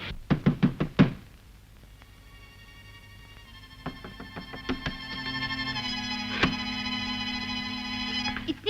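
Five quick, loud knocks on a door come first, followed later by a series of sharp raps and a ringing, bell-like tone, heard in a film scene.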